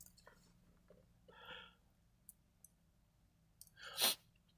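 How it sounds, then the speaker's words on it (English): A single sudden sneeze bursts out near the end, loud and close, after a quieter breathy catch; a low steady hum and a few small clicks sit underneath in an otherwise quiet room. "I had to sneeze."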